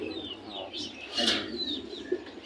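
Khaki pigeons coo softly at a bird market, low murmuring coos over light background chatter and a few faint chirps, with a brief louder burst midway.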